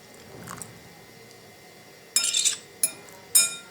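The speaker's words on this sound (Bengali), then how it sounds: "এখন আমি এই বাটি দুটো এক সাইডে সরিয়ে রাখবো।" Two bowls set aside in a kitchen, heard as three bright clinks and scrapes of dishware close by after a quiet stretch, no voices.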